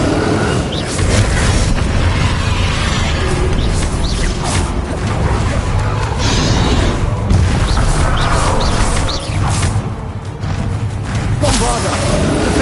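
Bombarda spell blasts in Hogwarts Legacy, a dense run of booming explosions and crashes filling the whole stretch, loud and continuous, with combat noise and a voice faintly underneath.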